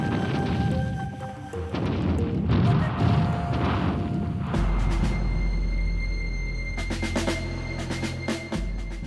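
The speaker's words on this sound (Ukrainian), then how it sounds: "В Чигирині 3 дні тривав бенкет і гарматна стрілянина" Cannon fire during a three-day feast in Chigirin, heavy booms and crashing impacts in several bursts, loud and reverberant, with rumbling low end between the blasts.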